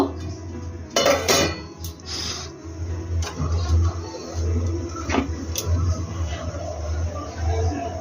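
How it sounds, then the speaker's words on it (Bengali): A lid comes off a cooking pot while rohu fish is cooked with raw mango, giving sharp metallic clanks near one and five seconds, then light scraping and clinks over a low steady hum. "10 মিনিট হয়ে গেছে, আমি ঢাকনাটা খুলব।"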